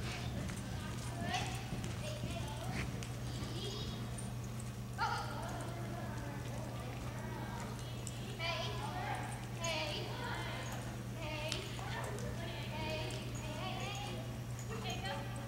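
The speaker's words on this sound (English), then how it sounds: "riding Violet, rider." A mare's hooves clip-clop in a steady rhythm as she is ridden, with a person talking over the hoofbeats.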